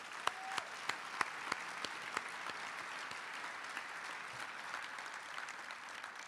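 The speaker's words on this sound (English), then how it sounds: "I just want to give a round of applause to this staff here that works so hard" Scattered audience applause for hotel staff at the JW Marriott Indianapolis, a thin, fairly quiet patter of claps with a few sharper hand claps standing out, steady throughout with no talking.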